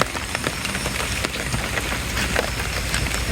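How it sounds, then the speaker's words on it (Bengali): Heavy rain pours steadily in a flooded village, a dense continuous patter of drops on surfaces, loud and close without pause. "এত বৃষ্টি পানি কমলে গেল"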